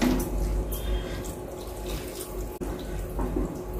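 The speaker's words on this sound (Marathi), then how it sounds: "थोडं गरम पाणी टाकते." Hot water pouring into a pan of cooking mutton mince and vegetable curry, a continuous close, loud gushing splash lasting several seconds with a brief break near the middle.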